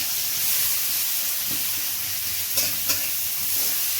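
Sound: dried chili, garlic and onion frying in oil

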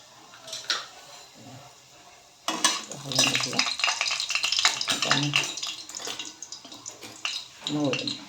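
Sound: oil heating and sizzling in a pan for dill curry

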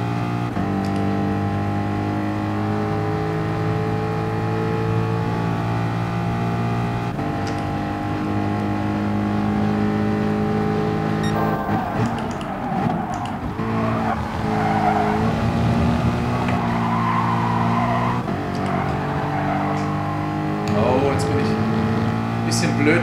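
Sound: race car driving at Monza in video game Gran Turismo Sport

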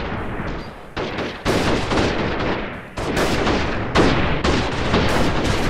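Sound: rifle gunfire in a video game

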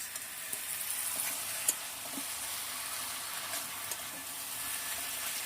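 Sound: food frying in a pan

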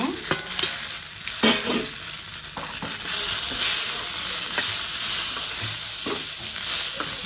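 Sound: frying onions, mint, coriander and tomato in pan

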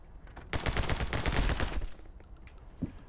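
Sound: Uzi firing in the video game My Friend Pedro

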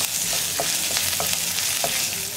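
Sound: stirring spices into brinjal roast in a pan

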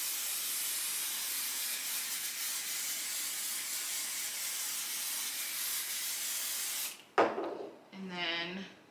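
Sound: spray adhesive sprayed onto embroidery stabilizer

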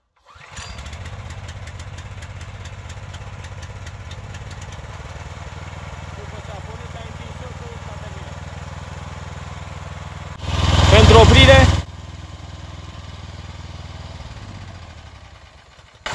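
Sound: mini tractor engine pull-started with choke and running

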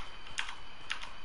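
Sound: typing on Redragon K552 mechanical keyboard

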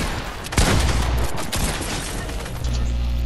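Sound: gunshots in the video game Fortnite

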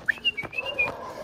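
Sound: human whistle calling dogs

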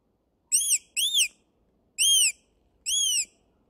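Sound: Devana fox call imitating a weasel squeak

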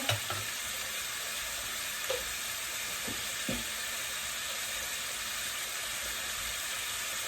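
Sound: winter vegetables frying in pan

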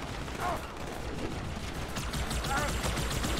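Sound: gunfire from an alien weapon in the video game Halo 2

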